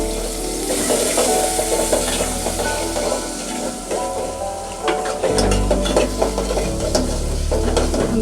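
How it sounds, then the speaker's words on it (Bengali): Prawns and onions fry in hot oil in a pan for a Bengali bottle gourd and prawn dish, a steady close sizzle with stirring scrapes and clinks throughout, swelling louder midway as the onions go in. "চিংড়ি মাছটা ভালোভাবে তেলের উপর একটু ভেজে তারপরে এই যে পেঁয়াজ দিয়ে দিলাম"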